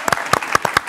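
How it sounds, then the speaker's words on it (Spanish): Several sharp hand claps land in an uneven rhythm, close and fairly loud, on a Spanish-language talk show set. "Un aplauso para la psicología"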